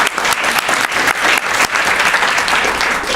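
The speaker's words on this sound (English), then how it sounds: "Let's give them all another round of applause." Audience applause at an anniversary celebration evening, a dense, steady wash of many hands clapping throughout, loud and close, with no talking over it.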